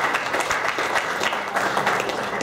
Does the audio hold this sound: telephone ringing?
no